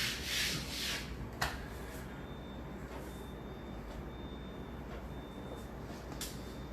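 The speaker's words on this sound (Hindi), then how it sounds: "चलो इसको रब कर देंगे" Writing being rubbed off a board, a few brief swishing strokes at the start over a steady background hum, then fainter scraping.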